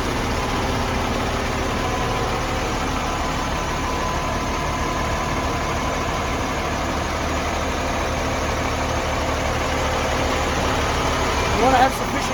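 Crane engine running steadily as the front wheels are raised off the ground, a loud continuous diesel drone with a brief bump near the end, while someone talks over it.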